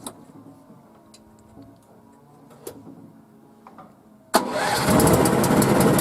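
A Lifan 18 hp engine on a karakat all-terrain vehicle is cranked, then catches and roars into a loud, steady run close by, after several seconds of quieter mechanical ticking and clatter.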